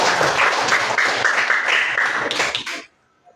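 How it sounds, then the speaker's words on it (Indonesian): Classroom applause for a student, Miftahul Jannah, during a school religious-education lesson: dense, steady clapping from a group of pupils lasting nearly three seconds, then cutting off abruptly into near silence. "Baik, tepuk tangan untuk Miftahul Jannah."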